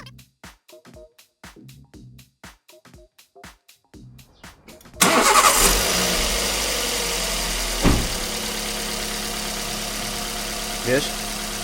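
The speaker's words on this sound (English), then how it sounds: "after starting up the engine, we realized that the noise is gone" A Toyota Yaris engine turns over with a rapid cranking rhythm, catches sharply and settles into a loud, steady idle close by after a belt repair. A couple of faint knocks sound under the running engine.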